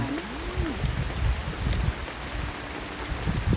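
Rain falls steadily outdoors, a constant broadband hiss with soft low patters and thumps, plus a brief rising-and-falling whistle-like tone near the start.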